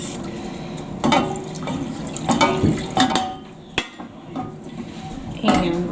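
Milk is whisked into melted flour and butter in a pan, the metal whisk clinking and scraping in irregular bursts against the pan, fairly close, with faint kitchen noise between strokes.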